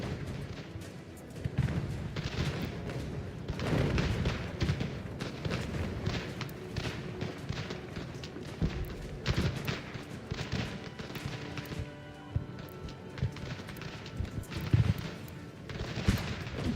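Cannon and musket fire from a battle in the strategy game Ultimate General: American Revolution, a steady stream of booms, cracks and thuds layered over one another without pause, loud and dense with no talk.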